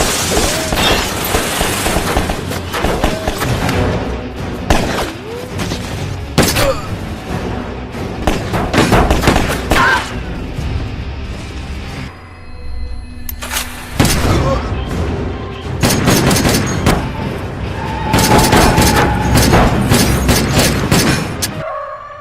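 A sabotaged car explodes in an action film, followed by bursts of gunfire as tattooed gang members shoot at a man, with loud booms, rapid volleys and dense chaotic movie effects throughout.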